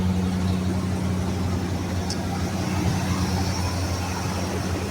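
An old square-body plow truck with a two-barrel carburetor runs nearby, its engine a steady low rumble at an even idle-like pace that fills the whole stretch.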